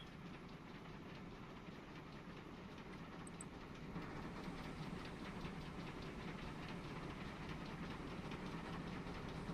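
Train engines run in the Transport Fever 2 video game, a faint, steady mechanical rumble with a rapid rhythmic clatter that grows slightly louder partway through.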